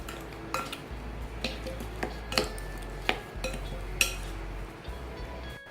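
Chicken pieces being mixed with salt and soy sauce in a bowl for a marinade, with a spoon clinking and scraping against the bowl in irregular taps over a steady low background hum.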